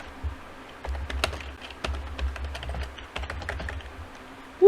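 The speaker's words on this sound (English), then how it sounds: "Typing a little bit faster." Quick irregular keystrokes on a computer keyboard tap close by in short bursts, with brief pauses between runs of keys and no talking.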